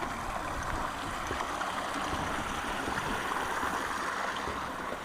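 The River Bain streams through a small ford in the Wolds countryside, a steady, loud rushing of water that holds unbroken from start to finish, with no voices.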